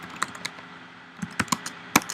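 Computer keyboard keys typed to enter a chart title: scattered clicks, a couple early, a pause, then a quicker cluster of sharp taps near the end, close and fairly quiet.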